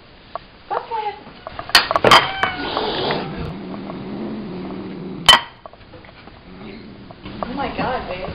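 A domestic cat yowls and caterwauls in loud, drawn-out wails mixed with sharp cries, up close, while people react with talk and shouts in a household setting.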